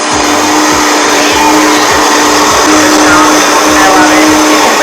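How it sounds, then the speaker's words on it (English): A Vitamix blender blends a green smoothie at high speed, a loud continuous roaring whir close by with a faint voice underneath. "we blend. This is my Vitamix."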